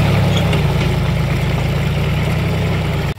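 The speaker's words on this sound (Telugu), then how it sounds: "సౌండ్ ట్రాక్టర్ సౌండ్ చాలా వస్తుంది" A tractor engine chugs at a steady idle, loud and close, with a regular low thudding pulse that stops abruptly at the very end.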